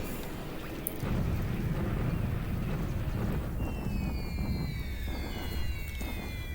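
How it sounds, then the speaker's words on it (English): Nighttime rainfall in the naval strategy game War in the Pacific – Admiral Edition: a dense, steady wash of rain with a deep rumbling low end, continuous and fairly loud throughout, with no voices. "it's night and it's raining"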